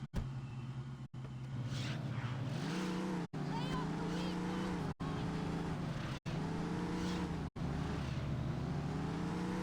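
A BMW car driving in the Saints Row video game, its engine droning steadily with rising and falling pitch as it accelerates, under game dialogue, interrupted by several brief silent cuts.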